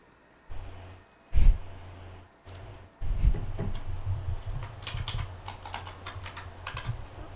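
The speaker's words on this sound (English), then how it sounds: "I was typing in game" Keys clatter on a computer keyboard during an in-game chat, coming in close, irregular bursts with short pauses and a loud thump near the start.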